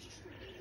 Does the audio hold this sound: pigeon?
yes